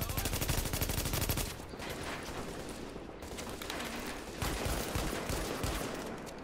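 Gunfire in the video game Tom Clancy's The Division: a fast, dense machine-gun burst at first, then scattered shots and bursts continuing under faint background talk.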